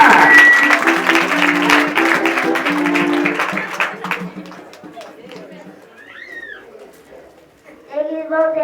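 A church congregation applauding loudly with rhythmic clapping under a crowd of voices and chanting, then fading to quieter murmurs before voices rise again at the end.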